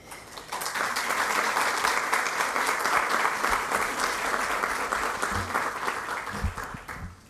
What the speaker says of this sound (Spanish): le daré los aplausos a los chicos que están allá